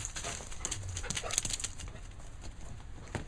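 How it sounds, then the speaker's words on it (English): An old dog plays and scrambles around close by, with scuffling, pattering movement sounds and small bumps, moderately quiet and continuous without speech. "It's an old dog with a puppy brain"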